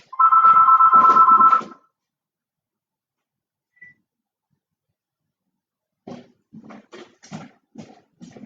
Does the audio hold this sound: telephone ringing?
yes